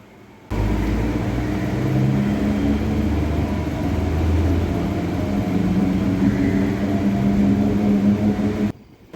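A Chennai MRTS suburban train running from Velachery toward St. Thomas Mount gives a loud, steady rumble and whir from inside the carriage for about eight seconds, starting and stopping abruptly, with no talking.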